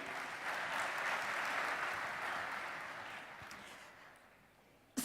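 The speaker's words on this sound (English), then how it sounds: "Can I please have another round of applause for Hadley and her panel?" Applause from a conference audience, a soft, distant round of clapping that holds steady and then gradually fades away to near silence.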